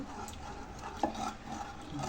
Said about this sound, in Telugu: వేసేసి దీన్ని కూడా బాగా కలిపేసుకోవాలి.